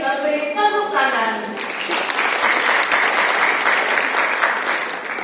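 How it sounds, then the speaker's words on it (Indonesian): A crowd at a staged Javanese traditional wedding ceremony bursts into warm, steady applause right after a voice speaks. The clapping stays dense and even throughout. "Mari sekali lagi kita beri tepuk tangan"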